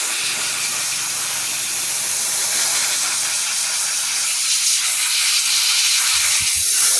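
An airbrush sprays cleaner with a steady, unbroken hiss of air and mist that holds at high level from start to end, close up, with no voices.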